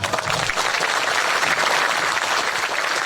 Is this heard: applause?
yes